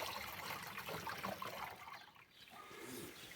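Diluted grapevine spray solution is poured from a container into a sprayer tank: a continuous close gush and trickle that eases briefly near the end before resuming, with no talk.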